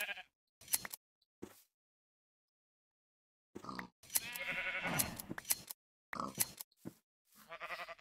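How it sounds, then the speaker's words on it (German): Sheep bleat in the Minecraft video game while being sheared, several short bleats arriving in quick bursts separated by silent gaps, with a longer bleating stretch in the middle. "Und die Schafe bekommen jetzt die Wolle ab."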